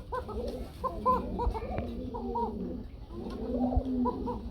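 A pair of Arabian coca pigeons coo close by in repeated soft, rolling phrases, several bursts in a loose rhythm over a quiet background.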